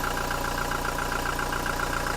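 A 2018 Toyota Hilux Revo 2.4E automatic pickup truck engine idles close by with a steady, even chugging rumble. It holds constant throughout, with no voices.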